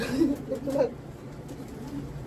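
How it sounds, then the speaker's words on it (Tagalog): Racing pigeons coo softly nearby, a few low warbling calls early on, then quieter background murmuring. "Yan ang mga ibon mo par"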